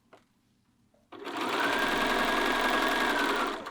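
A domestic sewing machine starts after a soft click as the presser foot lowers, then runs in one steady, close, whirring burst while stitching a short back tack at the start of a dart seam.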